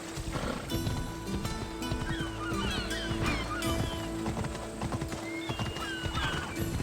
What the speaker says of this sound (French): Je peux utiliser un cheval.